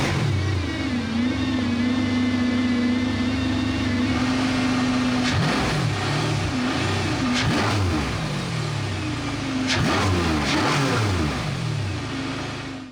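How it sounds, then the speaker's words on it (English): Mercedes-Benz CLK GTR V12 hypercar engine running loud and close, a steady idle that breaks into several sharp revving bursts, each rising and falling, with no talk over it. "The V12 fires right up."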